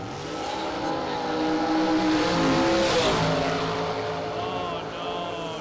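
A drag racing car launches hard at an eight-mile event, engine screaming up close as the tires break loose and squeal, the roar swelling to a peak midway before easing off.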